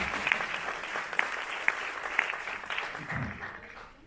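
Audience applause at a student stand-up comedy event, a steady wash of clapping with sharp individual claps, fading toward the end.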